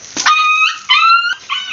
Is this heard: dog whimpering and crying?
yes